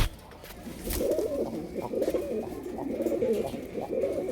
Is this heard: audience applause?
no